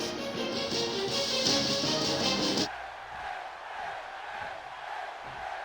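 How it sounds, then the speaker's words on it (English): A loud roaring wrestling video game crowd cheers and chants for Edge, then drops suddenly to a quieter rumbling crowd murmur. "There you can already hear the Edge chants running out."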